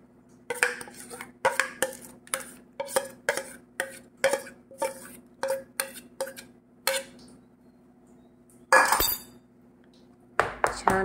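Repeated light metallic taps on an oiled steel dhokla plate filled with sweet corn dhokla batter, about a dozen sharp clinks in steady rhythm, close and clear, followed by a brief louder scrape and a few more knocks.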